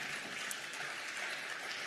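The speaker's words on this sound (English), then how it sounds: "let's clap for Gerald Ford" Steady broadband wash of audience clapping at an evening reunion program, dense and continuous for the whole stretch, fairly faint and distant-sounding with no talk over it.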